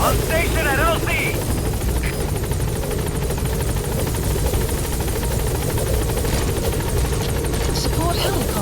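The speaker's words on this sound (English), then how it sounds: "Support helicopter has arrived" A support helicopter arrives in Metal Gear Solid V: The Phantom Pain, its rotor thudding loud and close in a continuous drone, with brief voice chatter near the start.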